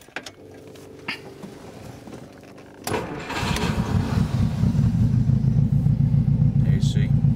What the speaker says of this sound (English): There you see, the idle's really nice.